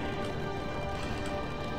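Horse galloping in the Chariot Wars: Circus Maximus video game, a fast dense rush of hoofbeats blended with loud, steady race noise.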